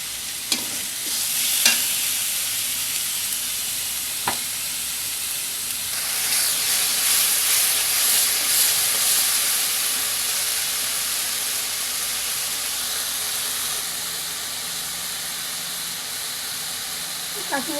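Okra with turmeric, salt, Kashmiri chili powder and cumin paste sizzles and hisses steadily in a pan, with a few sharp scrapes of stirring and a louder burst of frying midway, with no talking.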